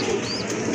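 A pigeon at a pigeon farm beats its wings in a brief, close, flurried rush of flapping.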